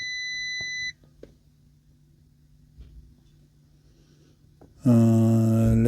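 An Audi Q7 with a 48V charging fault chimes as the ignition turns on. A short electronic tone cuts off, a few seconds of near-quiet follow with faint clicks, then a louder, sustained harmonic chime sounds.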